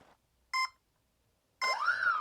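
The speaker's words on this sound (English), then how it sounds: "Any idea why the motor beeps like this?" Brushless motor of a cardboard RC hovercraft beeping from its speed controller: a short double-toned beep, a pause, then a longer tone sliding upward in pitch, close and clear in a quiet room.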